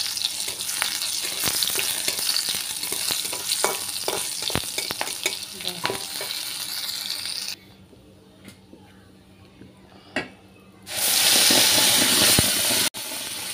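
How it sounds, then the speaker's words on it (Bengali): Cabbage-leaf and coriander-leaf paste fries in hot oil tempered with black cumin, giving a steady loud sizzle with stirring scrapes that drops out briefly midway, then returns as a strong hiss. "কালো জিরা ফোড়ন দিয়ে এটা তেলে ভেজে নিচ্ছি"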